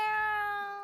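A cat meows once in a visual novel video game, a single clear, tonal meow that sounds close and slowly fades.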